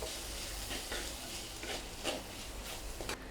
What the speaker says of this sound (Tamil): தக்காளியை நல்லா வதக்கி விட்டுருங்க